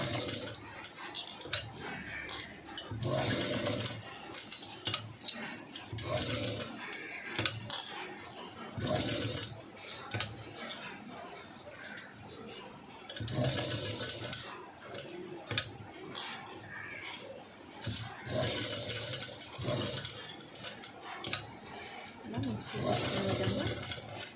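A sewing machine stitching black cut work fabric on a princess-cut design, its needle chattering in uneven bursts with short pauses between runs. Someone talks over the machine throughout.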